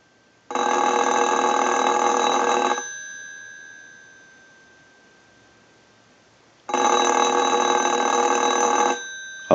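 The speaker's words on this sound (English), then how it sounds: "And we're going to go ahead and ring the unit. So we'll use the analyzer and we'll ring the telephone." A telephone bell on a grand telephone under repair, rung by an analyzer, sounding two loud, sustained electric ringing bursts of about two seconds each, separated by a fading pause, with no talk.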